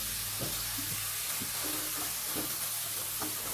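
Thai basil kaprao sauce for spaghetti stir-frying in a hot pan, a loud constant sizzle with a series of rhythmic spatula scrapes and taps roughly every half second, close up.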